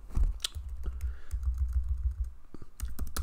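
Someone types code on a computer keyboard, fingers clicking in quick irregular bursts with short pauses, close and clear, no voices over it.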